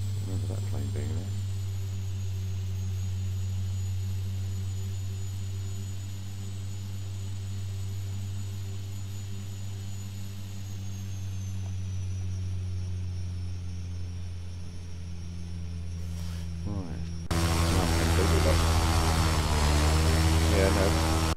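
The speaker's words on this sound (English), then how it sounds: "Remember that plane being there?" Propeller aircraft engine droning steadily nearby, a strong tonal hum with a whining overtone, rising sharply in loudness near the end as power increases.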